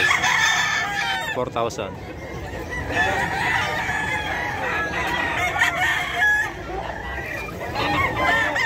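Several roosters crow and hens cluck close by in a lively, noisy pet market in Bocaue, while people talk briefly over the birds.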